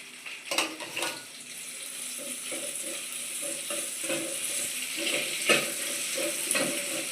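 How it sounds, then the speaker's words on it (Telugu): Onions frying in hot oil in a pan, along with curry leaves and garlic, for a fenugreek-leaf and moong dal curry: a steady sizzle broken by a few scraping stirs and clinks, close and moderately loud, with no talking. "ఆనియన్స్ కొంచెం ఆయిల్లో బాగా ఫ్రై అయ్యాక"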